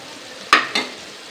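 Chicken curry masala sizzles in a pan under two quick, close spoon scrapes in succession, each a sharp swish that fades back into a soft, steady fry.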